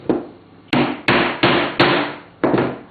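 Nails are hammered into a wooden beehive frame, with six sharp metallic strikes spaced unevenly, each ringing briefly before fading. The blows are close and loud, and nobody speaks.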